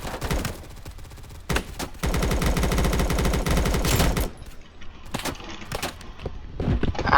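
Sustained automatic gunfire from Blackhawk Rescue Mission 5, a loud rapid burst lasting about two seconds, then scattered shots and impacts with no talking.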